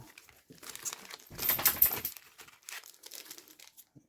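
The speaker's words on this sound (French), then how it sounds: "je prends les paquets ici et je vais tous les mélanger" Plastic wrappers of sealed Pokémon card booster packs crinkle as the packs are shuffled and mixed by hand, with a louder burst of rustling midway and softer scattered crinkles before and after, close and fairly quiet.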